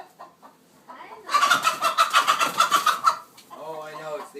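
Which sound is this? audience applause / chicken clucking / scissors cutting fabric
chicken clucking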